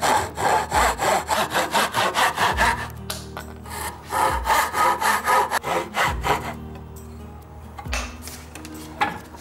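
Hand saw cutting down the cheeks of a wooden bridle joint, a steady run of rhythmic back-and-forth rasping strokes, close and loud, with brief pauses between bursts.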